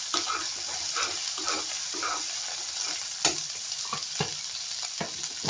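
Dried red chili fries in hot oil for a potato curry, a constant close sizzle broken by regular scraping strokes of a stirring spoon.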